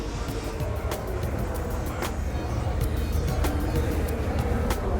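Formula 1 racing cars from the 2010 season drive past close together, a busy roar of engines with several sharp passes rising and fading over a continuous crowd-and-track din.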